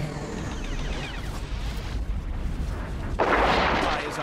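A weapon goes off in the Madness game, a few muffled booms under a voice, closing with a loud, close burst near the end.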